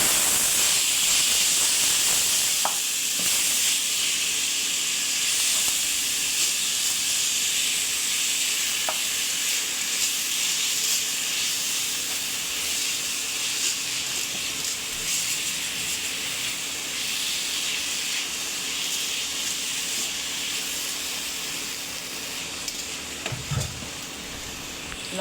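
Bottle gourd frying in a hot pan gives a steady, close hiss and sizzle that eases slightly over time, with occasional faint clinks of stirring.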